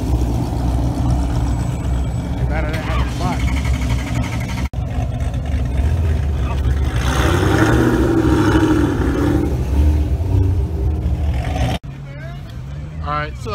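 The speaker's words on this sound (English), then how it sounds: "Got a Chevy SS pulling up." A Chevy SS pulls up at an outdoor car show, its engine rumbling and revving over steady crowd and traffic noise, with people talking nearby throughout.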